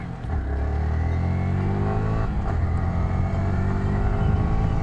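A Yamaha R15 V3 BS6 motorcycle accelerates hard toward 60 ahead of a braking test, its engine note climbing steadily through the gears with a rising whine, loud and close throughout with no talking.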